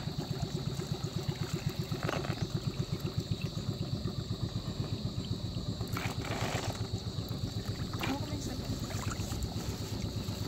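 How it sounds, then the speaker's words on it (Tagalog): A small motorized boat engine putters steadily with a fast rhythmic chug, close and continuous, with faint voices and water sounds in the background. "May doon pong bangka na demotor."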